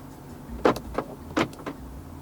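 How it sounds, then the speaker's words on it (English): Central locking on a 2020 BMW X5 xDrive45e M Sport actuating inside the cabin, two pairs of quick muffled clunks heard close and fairly quiet against a low hum. "Central locking."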